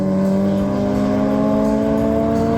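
A BMW M4 with a six-cylinder turbo racing a four-cylinder Toyota, engines droning loud and close with strong steady tones as they accelerate hard side by side.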